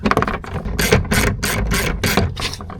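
A ratchet wrench loosens 10 mm bolts on the front door of a 2024 Jeep Gladiator/Wrangler, giving several close, loud bursts of rapid clicking in a steady rhythm.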